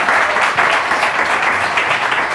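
An audience on a live magic show applauds as a magician is welcomed onstage, a loud, sustained and steady burst of many hands clapping close by.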